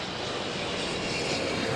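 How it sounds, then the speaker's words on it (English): Air Canada Boeing 777-300ER passing close at Toronto Pearson airport, a loud, steady broadband jet roar with a rushing hiss that holds constant throughout, no voices. "Air Canada 857 777-300ER from London Heathrow"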